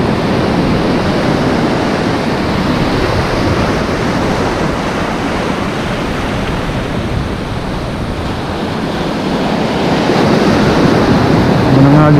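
Strong ocean surf roars continuously while fishing from shore, a dense broadband wash of crashing waves mixed with wind buffeting the microphone.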